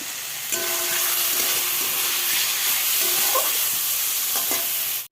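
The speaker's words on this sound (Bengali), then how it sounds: "ডিমটাকে একটু কষিয়ে নিচ্ছি" Eggs being sautéed in a pan, with a steady loud sizzle and some stirring scrapes, close up and without talk, continuing for about five seconds before cutting off.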